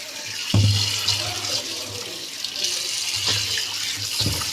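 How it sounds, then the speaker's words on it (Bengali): Thinly sliced potatoes being rinsed under a running kitchen tap, a steady close rush of water splashing into a sink, with short louder gushes as the slices are moved. "এবার আমি আলুগুলো ধুয়ে নেব।"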